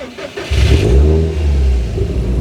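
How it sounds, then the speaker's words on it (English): Subaru WRX STI Spec C engine revving hard as the car accelerates on a drive, a loud, close, sustained growl that swells and holds steady. "Let's take the STI for a drive and see if it's as bad or good as everybody says."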